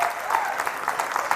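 Church congregation clapping during a Sunday sermon, a steady dense patter of many hands, fairly close and sustained throughout, with a few sharper claps standing out.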